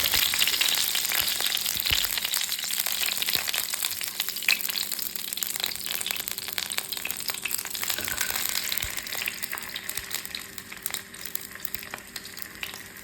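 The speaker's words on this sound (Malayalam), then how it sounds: "മഞ്ഞക്കൂരി മപ്പാസിന് മീനൊന്ന് വറുത്തെടുക്കേണ്ടതുണ്ട് ചെറുതായിട്ടൊന്ന് വറുത്തെടുക്കണം" Manjakoori fish fries steadily in hot oil with curry leaves, a dense continuous sizzle up close, lightly textured by faint stirring and pan scrapes, and no talking.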